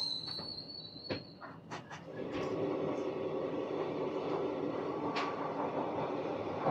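Aboard the Ratnachal Express, train 12718, setting off on time from Duvvada, a steady rolling rumble carries a few sharp wheel squeals and clicks near the start, with a high insect-like whine early on.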